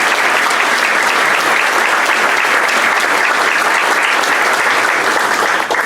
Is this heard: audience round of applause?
yes